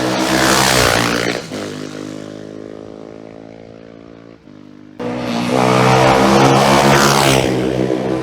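A Norton racing motorcycle at the Isle of Man TT roaring past on the road course, a loud high-revving engine note with a falling pitch as it passes, then a second machine screaming past close by.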